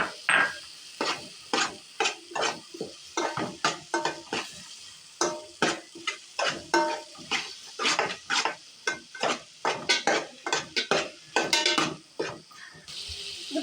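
Capsicum sautés in a pan for a macaroni dish, a spatula scraping and knocking against the metal in a brisk, regular rhythm over a faint sizzle, close and clear with no voices.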